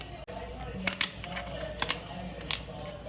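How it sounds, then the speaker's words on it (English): Scissors snip through the shell down the back of a lobster tail, giving a few sharp crunching cuts spaced about a second apart, close and fairly loud. "I'm just gonna cut straight down the back of this lobster tail."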